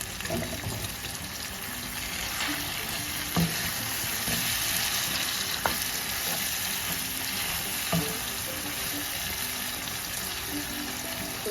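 Onion and tomato, with water just added, frying in a pan for a prawn bhuna, giving a steady broad sizzle with a few sharp utensil knocks, continuous and close with no talk.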